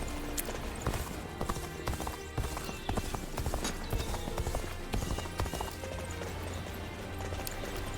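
Horse hooves clip-clop steadily and quickly while riding across the world map in Dynasty Warriors Origins, a dense galloping rhythm running throughout under game music and ambience, with a faint voice in the background.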